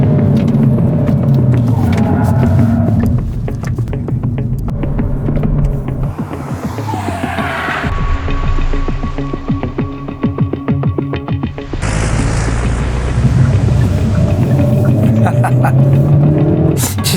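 A Hyundai i30 Fastback N being driven, its engine and exhaust loud and close, with throbbing revs that rise and fall and sharp swells where the throttle opens, running steadily throughout.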